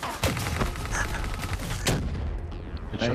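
Rapid, heavy rifle fire from a Black Ops 3 Demolition match on the Stronghold map, likely the M8A7, rattles continuously in close, loud bursts with boomy thuds and little pause.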